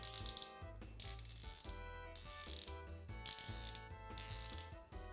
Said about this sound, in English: with the legs, they actually do seem to be ratcheted